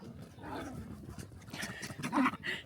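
A dog growls and barks in short, rough bursts on a horse ranch, close and moderately loud, with some rustling in between.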